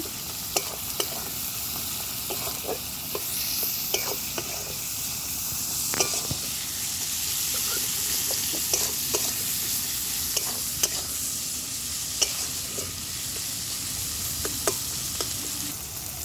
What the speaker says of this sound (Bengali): পেঁয়াজটাকে লাল লাল করে গাইস ভেজে নেব।